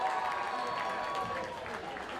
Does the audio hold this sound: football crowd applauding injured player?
yes